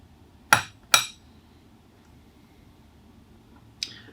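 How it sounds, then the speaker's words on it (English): A metal E-ring being slipped by hand over the groove at the end of a drill press table shaft gives two sharp metallic clicks close together, then a lighter click a few seconds later, in a quiet room. "we're going to slip the E-ring over the groove that's in the end of the shaft"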